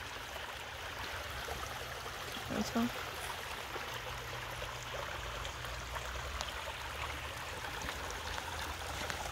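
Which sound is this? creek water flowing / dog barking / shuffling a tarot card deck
creek water flowing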